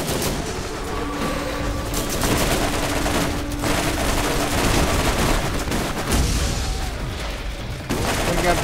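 Sustained gunfire and shotgun blasts in the Borderlands shooter game, dense rapid bursts of shots and booms continuing loudly throughout, with faint voices now and then.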